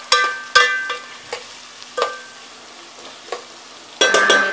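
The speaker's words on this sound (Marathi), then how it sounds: "आणि पाव चम्मच हिंग, हे छान आपण असं जरा परतून घेऊया।" Onion sautéed in a pan with a quarter spoon of asafoetida, a spatula knocking and scraping in sharp irregular strokes over a steady close sizzle, with a louder clattering burst at the end.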